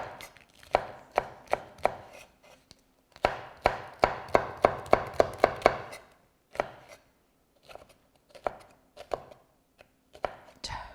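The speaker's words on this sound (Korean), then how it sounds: "청고추도 그래서 어슬그로 채 썰어주세요." A knife slices green chili peppers into thin strips on a cutting board while preparing Korean temple food. Crisp, close chopping strokes come in quick rhythmic bursts with brief pauses between runs.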